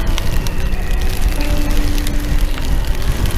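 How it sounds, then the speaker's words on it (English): Rain and gusting wind outdoors in Iceland, heard while biking: a dense, steady rush of noise with low buffeting rumble and scattered faint patter of drops. "It's now started to rain a bit as well, and the wind seems to have picked up a bit more."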